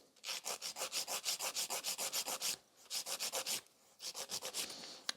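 Hand nail file rasping back and forth across a sculpted fiber gel nail extension, in quick rhythmic strokes of about two per second, close and clear, with a brief pause before a second burst and a third shorter run.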